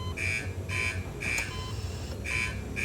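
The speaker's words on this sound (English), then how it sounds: "I hear an alarm." An electronic alarm sounds in four repeated high-pitched buzzing bursts, steady and evenly spaced, over a faint background hum.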